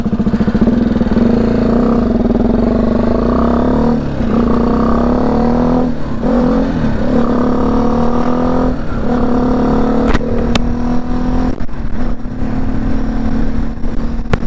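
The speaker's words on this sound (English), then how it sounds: "I'm riding a BMW G310 GS" A BMW G310 GS motorcycle being ridden on a hot day, its engine a loud, steady close-up drone with a slight rise in pitch and a couple of sharp clicks near the end.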